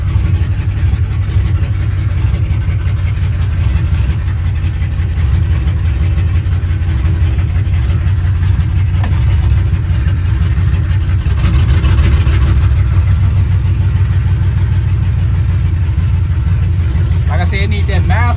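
A Chevrolet C10 pickup engine runs steadily on its first start-up with no exhaust fitted, a loud, close, continuous low rumble that swells briefly midway, and voices talk over it.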